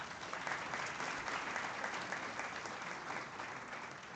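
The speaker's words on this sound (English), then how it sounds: "Another round of applause, please." A crowd at a banknote and coin launch ceremony applauds steadily, a dense wash of clapping hands that holds an even level throughout, heard from some distance.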